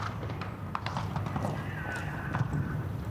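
Horse hooves drum over the grass of an outdoor show jumping arena at a CSI3* Grand Prix jump-off, a steady quick rhythm under crowd murmur and a commentator's voice.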